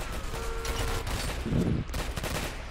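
Gunfire in a Roblox game crackles through a noisy scene, a burst of shots and impacts over a continuous background din, with no talking.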